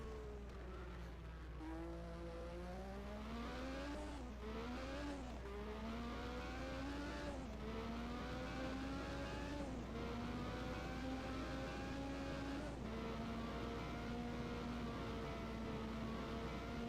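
A Formula 1 race car engine at the 1986 Canadian Grand Prix, round six, wails steadily with a high, buzzy note that climbs and drops through repeated gear changes, heard at moderate distance and on its own.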